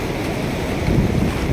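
Wind and surf roll continuously at a beach in Goa during the off-season, a steady broadband wash of waves with gusty wind noise on the microphone, swelling slightly louder midway.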